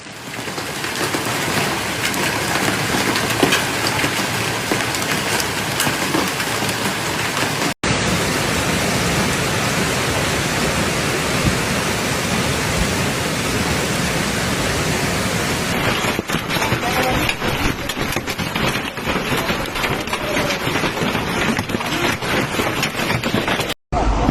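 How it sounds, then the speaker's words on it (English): Dense, steady roar of heavy rain and hail drumming continuously during a storm in Turkey, loud and unbroken for the whole stretch with a brief cut near the start. "Heavy rain and hail in Turkey had a negative impact on life"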